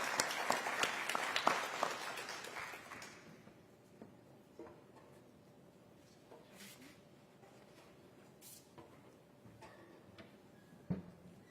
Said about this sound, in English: So please join in giving them a warm round of applause.